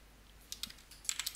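Keys clatter on a computer keyboard as Java code is entered, a brief run of light, close taps that grows quicker and denser toward the end, with no talking.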